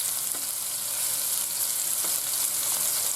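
Meatballs searing in a hot pan, a steady bright sizzle holding at moderate loudness, with two soft knocks of a utensil along the way and no voices.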